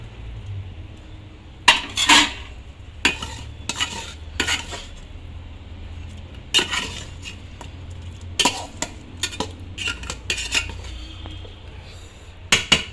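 A spoon scrapes and clatters in a pot as potatoes are stirred into chicken biryani, close and fairly loud, in irregular bursts over a low background hum.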